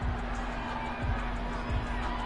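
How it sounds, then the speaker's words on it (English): A home crowd cheers in a PS4 football video game, a steady broadband roar of many voices that swells slightly and holds without a break for the whole stretch. "This home crowd, they're happy with that call."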